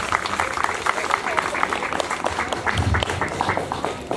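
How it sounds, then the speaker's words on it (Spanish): Applause from a crowd at a Día de la Cruz celebration in San Rafael, Chalatenango, El Salvador, a dense steady patter of clapping heard under a person talking. "Fuertes aplausos."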